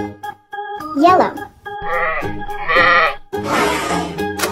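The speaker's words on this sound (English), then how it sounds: "Sheep" Bleating sheep call out repeatedly over music, several wavering cries in quick succession, close and fairly loud.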